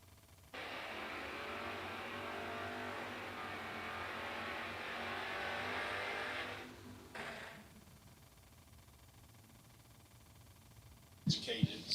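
A Moser Performance and Engineering sponsored hot rod at a drag race track roars loudly and steadily for several seconds, then cuts off and fades, leaving a quieter background with a brief burst near the end.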